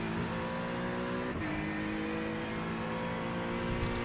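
Acura NSX EV race car in the iRacing sim, a steady electric-motor whine with layered tonal harmonics holding at speed, dipping briefly then settling again, loud and continuous with no talk.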